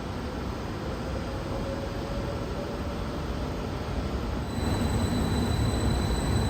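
A train pulls into a station in Zurich, its steady rolling rumble and broad rail noise filling the scene, with faint high wheel squeals along the track and a slight swell in loudness near the end as it comes in.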